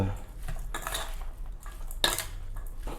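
Utensil scraping and clinking in a pan while a sweet liver dish (Isan-style Thai liver) is stirred, with repeated short metallic strokes at a steady pace, close and moderately loud.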